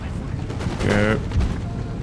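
A musket volley booms in an Empire: Total War battle, a loud ragged crackle and rumble of massed fire heard under someone talking excitedly.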